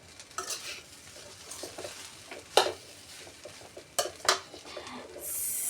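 Fast-food-style fried rice tossed and stirred in a pan: scattered metallic scrapes and clinks over a faint sizzle, close but fairly quiet, with a few sharper knocks.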